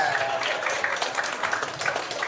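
An audience claps at a prize distribution for a Bangalore tournament, a short burst of scattered, fairly dense applause with faint voices mixed in.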